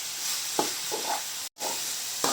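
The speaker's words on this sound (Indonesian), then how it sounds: "Ini kita aduk terus ya teman-teman" Squash and young papaya pieces are stirred in a frying pan over a steady sizzling hiss, with several soft scraping strokes and a brief moment of silence in between.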